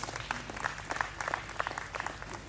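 Wedding guests clap during a toast by the groom's father, with scattered, fairly quiet applause from a room full of people and a few sharper claps standing out.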